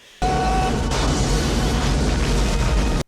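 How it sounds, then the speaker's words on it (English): A giant explosion from the 1993 film Demolition Man bursts in suddenly as a loud, dense roar that holds steady for about three seconds, then cuts off. "The giant explosion in the background."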